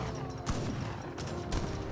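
Musket infantry in Age of Empires 3 fire a volley, a couple of quiet, sharp reports over the steady battlefield din of the real-time strategy game.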